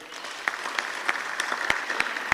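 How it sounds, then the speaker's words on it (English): Applause for a speaker at a diplomatic reception hosted by the President of Zimbabwe, a steady patter of many hands with a few sharper individual claps, moderately loud and without talk. "Let's give him a big round of applause"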